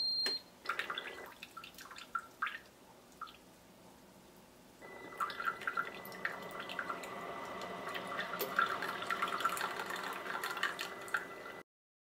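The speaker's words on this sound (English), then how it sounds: "And just press brew." Ninja DualBrew Pro specialty coffee system brewing a 4-ounce specialty cup from a pod, with soft dripping and trickling of liquid that swells into a steadier stream partway through, heard fairly close with no talking.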